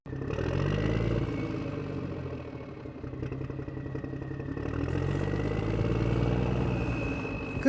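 A farm tractor's engine idles on a hay field at the start of the hay season, a steady low rumble with a faint mechanical clatter that swells slightly toward the end, with no talking.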